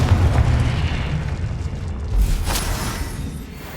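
A booming spell explosion from the Confringo curse in the Hogwarts Legacy video game, a single heavy blast with a low rumble that decays over a few seconds.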